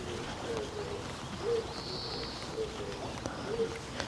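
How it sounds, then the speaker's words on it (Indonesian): Birds call in a Japanese village on a morning near fishing water, giving soft, repeated cooing notes about once a second, moderately distant over a steady ambient hiss. "Ada suara burung apa lagi tuh lur."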